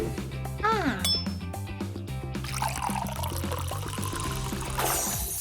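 Water pouring as a game sound effect in the Dress to Impress dress-up game, a short splashy trickle with light clinks, heard over steady, busy background music.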